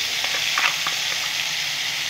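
A paste of mustard, sesame and poppy seeds sizzles in hot oil, giving a close, bright, continuous crackling hiss with a few light stirring scrapes.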